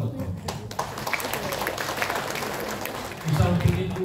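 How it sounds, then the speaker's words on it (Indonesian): Audience applause at a teacher training session on literacy and curriculum in Indonesia, a steady spread of clapping mixed with murmur, with a low voice coming in near the end. "Tepuk tangan buat Bapak."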